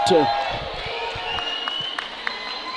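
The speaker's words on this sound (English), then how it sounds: "crowd making a bit of noise in support" A hockey crowd at a New Hampshire finals playoff game cheers and claps in support, a steady wash of distant arena noise with scattered sharp claps while a commentator talks over it.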